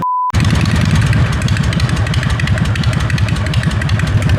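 A chopper motorcycle engine runs loud and close, a steady throbbing low rumble with rapid pulsing that holds throughout after a short tone at the start.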